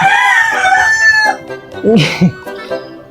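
Backyard chickens calling, with a sustained crowing-like call at the start and a few short clucks and squawks following, fairly close and moderately loud.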